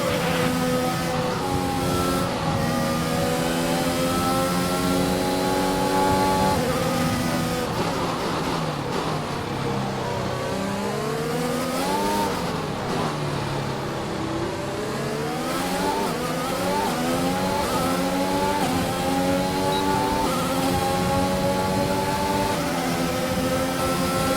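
Formula 1 race cars on the final lap in the video game F1 2021, with a loud, continuous high-pitched engine whine rising and falling through gear shifts and revs, occasional tyre squeal, and no talking.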